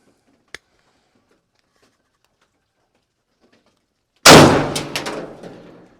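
A Spandau S2 semi-auto 12 gauge shotgun fires Winchester Super X at a target: a faint click, a long quiet pause, then one sudden loud close blast whose echo rolls away over about two seconds.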